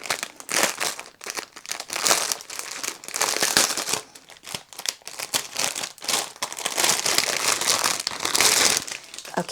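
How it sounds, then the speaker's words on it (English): Plastic packaging around diamond art drill bags crinkles and rustles up close, a busy, continuous run of crisp crackles and crunches with no voices. "This next bit's going to involve lots of crinkling, I'm afraid."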